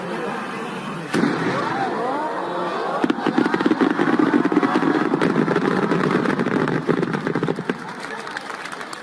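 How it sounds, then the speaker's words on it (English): Fireworks exploding outdoors in a steady barrage of bursts and crackles, loud and continuous after a sharp first bang, with a crowd audible around them. "As you can tell, these fireworks are awesome."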